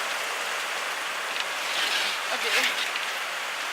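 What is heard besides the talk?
heavy rain from Tropical Storm Isaac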